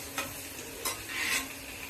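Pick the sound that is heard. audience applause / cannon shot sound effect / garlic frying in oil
garlic frying in oil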